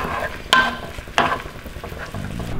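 Garlic, crab meat and butter stirred in a hot pan, with a couple of sharp scraping clatters of the utensil over a steady soft sizzle, fairly close and with no talk.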